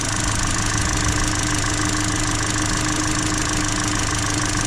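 Steady, close idle of a car engine after its spark plugs were re-gapped to cure an intermittent misfire, an even continuous hum with no noticeable changes and no voices.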